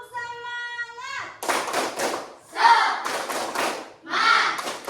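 Schoolchildren in a primary-school class perform the 'tepuk semangat' clapping chant: after a sung-out tonal opening, a few loud bursts of group clapping and shouting follow in a quick rhythm, close and lively.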